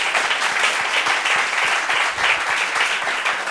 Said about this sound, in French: Ça s'applaudit, hein?